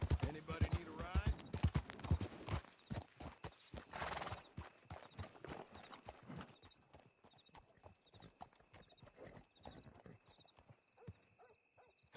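A horse in the video game Red Dead Redemption 2 clops along with rhythmic hoofbeats near and loud, and lets out a whinny early on, while a voice speaks briefly over the steps.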